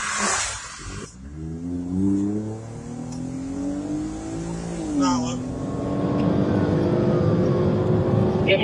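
A fleeing suspect car speeds through wrong lanes and red lights during a police pursuit in Grove City, Ohio, its engine rising in pitch as it accelerates, with a loud steady road roar and a brief burst of noise partway through, under radio talk.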